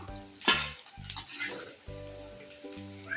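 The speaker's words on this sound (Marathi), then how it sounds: "आता सगळा डिंक तळून घेते" Edible gum (dink) frying in hot oil in a kitchen pan, a close crackling sizzle broken by spoon scrapes and clinks against the pot, with intermittent louder stirring strokes.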